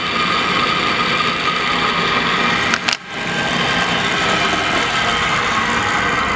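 A Viceroy bowl-turning lathe, converted from three-phase to 240-volt single-phase with an inverter drive and running near 1,500 RPM, gives a loud steady mechanical whir and hum that briefly dips and cuts out before spinning back up.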